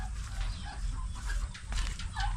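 Native chickens, about 50 kept in a pen, cluck softly now and then over a steady low rumble of background noise, no clear crowing.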